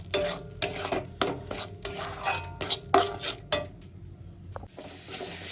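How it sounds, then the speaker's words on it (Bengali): Spice paste being stirred and fried in a pan for a fish curry, a spatula scraping in quick repeated strokes against the metal over a low sizzle, close and rhythmic, with a short pause near the end. "মশলাগুলো দিয়ে এবার আমি মিক্স করে নিয়েছি পরিমাণ মতো নুনও দিয়ে দিয়েছি আমি ভালো করে কষাতে থাকবো"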